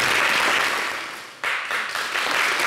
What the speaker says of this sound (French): J'aimerais qu'on puisse applaudir Jacob Desvarieux.